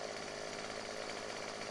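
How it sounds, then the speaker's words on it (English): A chainsaw cutting through a tree in the Farming Simulator 2015 video game, a constant loud, buzzing engine whine held at an even pitch throughout, with no speech. "Pull up the chainsaw. We gotta finish this tree real quick."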